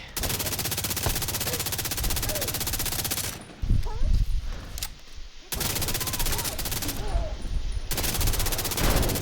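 Sustained automatic gunfire in the shooter game Division 2, loud and dense, with a brief lull near the middle before the rapid bursts resume, no voices.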